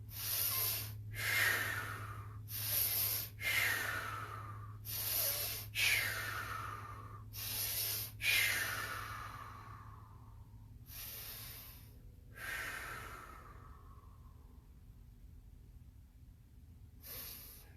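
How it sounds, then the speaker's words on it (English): Pranayama breathing, drawn in through the nose and blown out through the mouth, comes as about nine sharp, hissing exhalations in a steady rhythm, close and clear over a low hum, then fading and spacing out toward the end. "what I'm doing is in through the nose, blowing out through the mouth"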